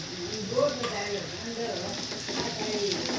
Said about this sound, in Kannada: ತುಂಬ ಫ್ರೈ ಮಾಡೋ ಅಂಥದ್ದು ಏನಿಲ್ಲ ಸ್ವಲ್ಪ ಫ್ರೈ ಆದರೆ ಸಾಕು